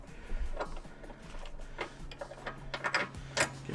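A bolt run up with a socket wrench while installing a 1.5-inch ADF lift kit on a 2018 Subaru Crosstrek, giving quick, light ratchet clicks in an uneven ticking rhythm, close and moderately quiet.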